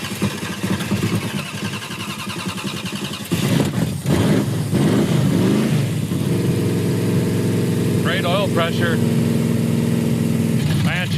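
A Coronet car engine, just cranked, runs with a steady rough rumble that starts a few seconds in and carries on to the end, while people talk over it.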